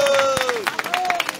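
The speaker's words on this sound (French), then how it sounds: "je pense qu'on peut l'applaudir" Applause and light cheering break out from a crowd at a rally for the Bloc Lorrain, a rising patter of claps under a whistle-like tone and scattered voices, fairly near and steady through the short burst.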